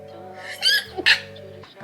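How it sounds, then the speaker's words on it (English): A single sharp sneeze bursts out over a steady low hum, a quick gasping intake followed by a loud forceful expulsion, close to the microphone. "I gotta sneeze."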